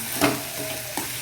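Grated coconut stirred into radish cooking in a pan, a soft scraping stir with a brief louder swirl early on and another about a second in, under a low steady sizzle.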